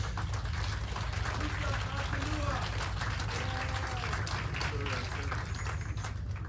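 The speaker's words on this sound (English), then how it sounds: "I think it's important for us to clap hands for the brave people who are showing us" Audience applause at the 5th Pan-African Congress: a dense, steady wash of many hands clapping that continues through the whole stretch, with voices mixed in.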